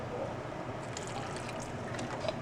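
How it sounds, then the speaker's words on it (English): Water trickles slowly into a blended vegan mac and cheese mixture, a soft continuous pour with faint splashy flecks over a steady background hum. "so I'm going to add more water."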